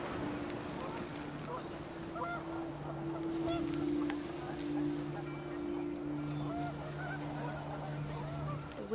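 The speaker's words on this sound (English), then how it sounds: "And panicked geese appeared and quickly went" Geese honking in the video game What Remains of Edith Finch, a series of faint, distant honks over wind and a steady low tone, under game narration.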